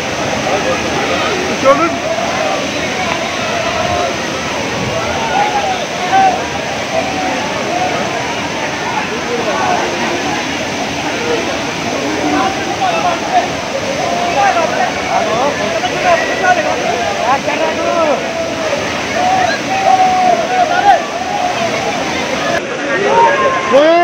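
Kempty Falls in Mussoorie thunders down with force, a loud, constant broadband roar of pouring water mixed with the murmur of people talking nearby.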